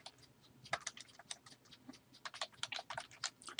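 Rapid typing on a computer keyboard, a close run of irregular key clicks with brief pauses and a few louder strokes, with no talking.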